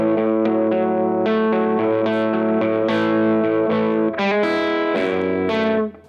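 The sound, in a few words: guitar through Artist TweedTone 12A amp, tone control swept off to full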